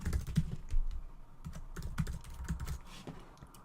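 An email ID is typed on a computer keyboard, a quiet run of soft, irregular key clicks close by, alone without talk.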